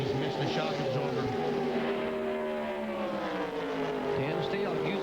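Stock cars in an ARCA race at Talladega roar at full throttle, a steady, loud engine drone with rising and falling pitch as the pack passes, under continuous excited race commentary.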